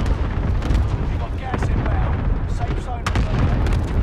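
Bombing in the Call of Duty Warzone battle royale game produces continuous heavy booming and rumbling, with a few sharper blasts standing out over a dense, loud wash of battle noise and muffled voices.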